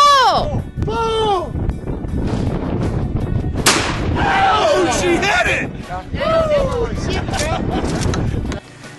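Skeet shooting outdoors, with a single sharp shotgun blast cracking out midway through as people talk and call out loudly around it.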